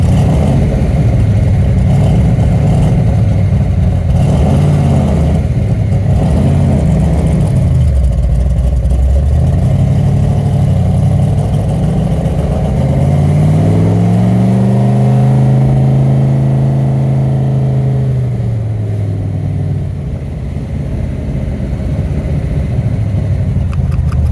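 A 1969 Corvette 427 V8 engine revs hard and close, rising and falling through several throttle blips before settling into a throaty idle, loud and alone without talk.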